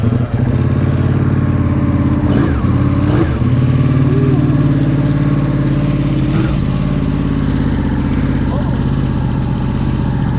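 Ducati Panigale motorcycle engine running steadily close by, a loud continuous mechanical drone with a few brief rises in pitch; people talk faintly underneath.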